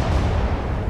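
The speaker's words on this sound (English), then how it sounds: "I am turning our ship just a bit to bring those broadside cannons" Broadside cannon volley from a warship in the naval combat game War on the Sea, a short dense low boom of artillery fire, loud and close, filling the whole moment without a break.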